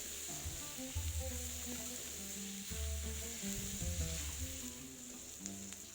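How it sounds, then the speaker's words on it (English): Carrot pieces sizzling and frying in a hot pan, a steady crackling hiss running throughout with no one speaking, close and fairly loud. "Now add the carrot. And cook it for about 2 minutes."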